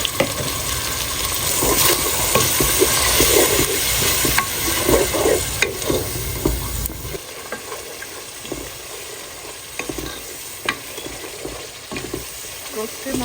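Roast masala paste made with onion paste and whole spices fries in a pan under stirring. The loud sizzle and scraping are busy at first, then settle into a quieter sputter with occasional spoon knocks.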